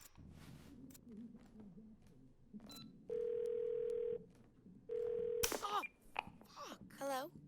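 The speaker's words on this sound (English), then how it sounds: "take the phone in the middle center. We're going to call Bumblebee again" Within the game Twelve Minutes, a phone call produces two long steady ringback tones separated by a pause, cutting clearly through quiet room ambience, while someone talks before and after the tones.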